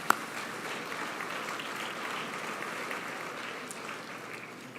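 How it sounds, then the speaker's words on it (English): An audience at a business awards ceremony gives a round of applause, a fairly soft, even patter of many hands clapping that carries on steadily for several seconds after a sharp opening clap. "Another round of applause for Andrea."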